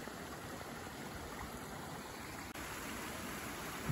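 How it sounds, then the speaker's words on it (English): A babbling brook along a wooded hiking trail gives off a steady, soft hiss of running water, even and unbroken, heard close but at low level. "Here, we came upon another babbling brook."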